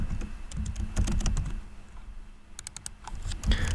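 Close-up typing on a computer keyboard: irregular bursts of sharp key clicks, some quick runs and some single taps, over a low room hum, with no speech.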